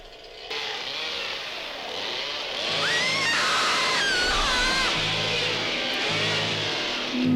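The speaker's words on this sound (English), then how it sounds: "Chainsaw." A chainsaw in the 1982 horror film Pieces whines and revs at high pitch over a rumbling background, its tone rising and falling as it works.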